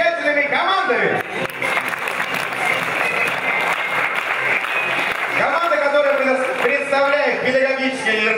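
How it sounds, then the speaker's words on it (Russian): Audience applause breaks out at a KVN comedy league show in a hall, sustained clapping over much of the stretch with a host's voice speaking over it at the start and again toward the end. "под ваши аплодисменты давайте будем знакомиться с этими замечательными командами"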